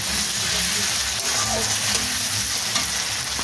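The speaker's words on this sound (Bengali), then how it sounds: "এবারে দিয়ে দেবো কাঁচা লঙ্কা আর রসুন বাটা, তারপরে দিয়ে দেবো আদা বাটা, দিয়ে সুন্দর করে নাড়াচাড়া করে নেব।" Green chilli, garlic and ginger paste fries in hot oil with a loud, constant sizzle while being stirred, heard up close with occasional scraping of the utensil against the pan.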